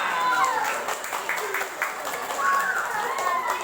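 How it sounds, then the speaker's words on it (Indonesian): Applause from an audience at a religious gathering, a Quranic school event in Kutoarjo: a moderate wash of clapping with voices and cheering mixed through it, swelling again near the end. "Tepuk tangan."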